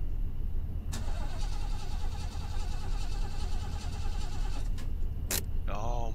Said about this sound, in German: Ich höre doch, dass das Auto an ist.